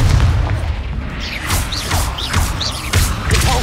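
Confringo fire-blast spells going off in Hogwarts Legacy, a series of punchy booming explosions roughly every half second with whooshing spell sounds between them, loud and close with no talk.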